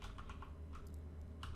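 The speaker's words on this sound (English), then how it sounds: "I would type in Leptitox right here." Keys tapped on a computer keyboard while entering a search, a quick run of light clicks close by, with no talking.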